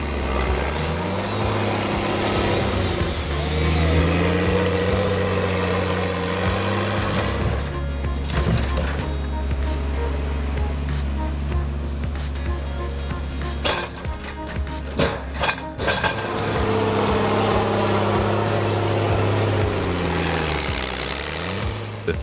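A logging tractor's engine drones and strains steadily while churning through thick mud, with a loud sustained low rumble, shifting load and scattered clunks and rattles partway through.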